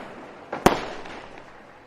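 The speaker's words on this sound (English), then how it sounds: "Have a lot of fireworks going off too." A firework for Guy Fawkes Night goes off with a single sharp, loud bang, preceded by a brief whoosh and followed by a fading crackling tail.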